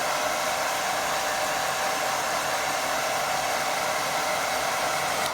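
A hair dryer blows steadily on a watercolour painting of a lake, a loud, close, unbroken whoosh with an even hum that holds for the whole stretch and cuts off right at the end.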